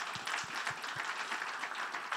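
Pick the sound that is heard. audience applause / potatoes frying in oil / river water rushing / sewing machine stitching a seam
audience applause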